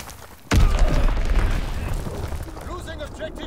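A sudden heavy bomb blast in Call of Duty WWII bursts out after a half-second lull, a loud close boom rolling into a long rumbling decay, with voices calling out over the tail.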